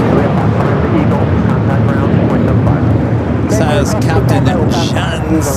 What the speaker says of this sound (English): Cargo Lux cleared for takeoff.